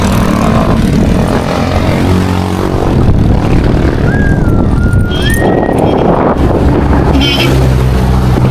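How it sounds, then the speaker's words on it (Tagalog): Loud, constant roaring rumble of wind buffeting the microphone throughout, with faint tonal whines and distant sounds buried underneath. "Ang lakas naman ang hangin na yan talaga"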